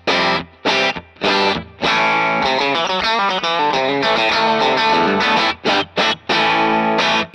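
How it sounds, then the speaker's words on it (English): Fender Telecaster electric guitar with J-Mod signature pickups and StringJoy strings, run through a Bad Cat amp and Torpedo Captor X, plays loud, distorted chopped chords and a busy sustained riff, close and alone. "Now that sound you're hearing is my Fender Telecaster with the J-Mod signature pickups and string joy strings."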